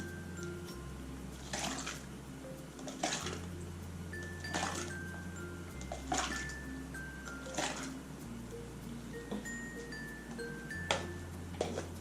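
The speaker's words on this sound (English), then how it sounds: "Let's rinse the ones with the tap water as well." Steady running tap water with light clinks and splashes of cups being rinsed, a low hum underneath throughout.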